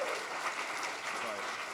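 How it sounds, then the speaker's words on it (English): Crowd applause at a hacker conference badge-hacking session, a dense steady wash of many hands clapping at moderate loudness, with some voices mixed in underneath. "Round of applause for this."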